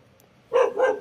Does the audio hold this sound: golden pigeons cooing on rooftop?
no